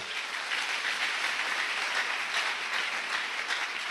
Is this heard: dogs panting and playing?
no